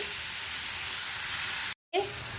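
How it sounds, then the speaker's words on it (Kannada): Tomatoes frying in a pan with salt, cumin and turmeric make a steady broadband sizzle, loud and close. It cuts out briefly near the end and resumes with faint stirring. "ಟಮಾಟ ಚೆನ್ನಾಗಿ ಫ್ರೈ ಆಗಲಿ"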